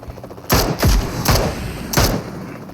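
Four heavy booming launcher blasts from a bazooka in PUBG Mobile, spaced irregularly over a couple of seconds, each a sharp thump with a short decaying tail.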